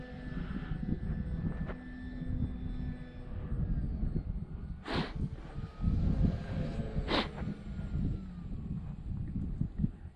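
Radio-controlled ParkZone T-28 model warbler, a 1.1 m foam trainer, flying outdoors with a steady distant engine drone, wind buffeting the microphone and a couple of brief sharp passes overhead.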